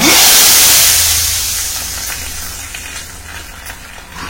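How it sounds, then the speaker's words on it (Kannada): Hot tempering of oil, mustard and chillies poured into basale leaf sambar gives a loud hissing burst at first that steadily fades to a softer sizzle, close and without voices. "ಈಗ ಒಗ್ಗರಣೆನ ಸಾರಿಗೆ ಹಾಕೋಣ"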